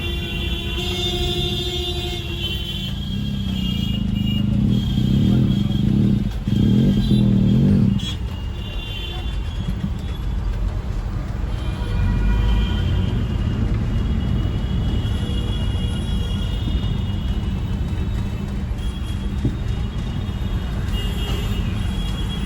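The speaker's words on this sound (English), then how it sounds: "once you were inside the city, this is how the traffic sound was like" Continuous, dense city street traffic in India rumbling close by, engines droning with a steady low roar and occasional louder passing vehicles.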